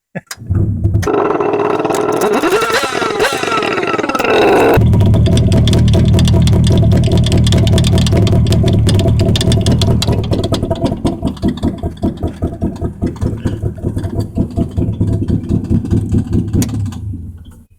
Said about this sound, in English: I think I'm gonna have to fire this baby up without the muffler on it